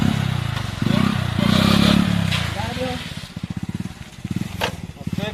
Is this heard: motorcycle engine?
yes